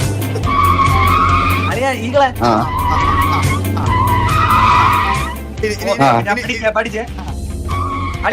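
A car drifting in a high-graphics video game, loud sustained tire squeals and engine whine sweeping in long skids, with a lively voice talking excitedly over the sound.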